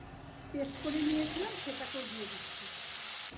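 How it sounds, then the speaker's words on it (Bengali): Bay leaf, whole garam masala, cumin seeds and about a cup of onion paste hit hot oil with a sudden loud sizzle that then holds as a steady hiss. A faint voice is audible early on. "এবার ওই তেলের মধ্যেই দিয়ে দিচ্ছি তেজপাতা, গোটা গরম মশলা, জিরে ফোড়ন আর 1 কাপের মতো পেঁয়াজ বাটা"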